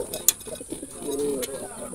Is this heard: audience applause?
no